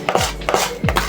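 Dry cake ingredients, including sugar, stirred together in a bowl at home, giving a few soft scraping and rubbing strokes in an uneven rhythm, close and moderately loud.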